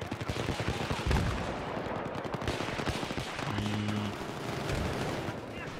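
Battlefield 3 battle gunfire, sustained automatic bursts and repeated shots with deeper thuds of heavier fire, loud and close, rolling on continuously with a brief tonal hum partway through.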